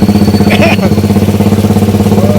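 A Suzuki Raider motorcycle engine pulses at a fast, even idle-like beat, loud and close, with a brief rev swell early on and faint voices in the background.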